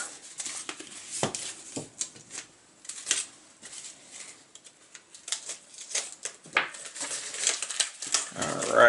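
A mailed package holding a comic book being cut open, with irregular close scratching, slicing and crinkly rustling of cardboard and packing material in short uneven bursts.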